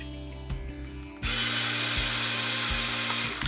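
A small LEGO motor tilts the gun on a LEGO tank, with clicking gear ratchets at first, then a sudden steady grinding whir broken by repeated ratcheting clicks, all close and without talk.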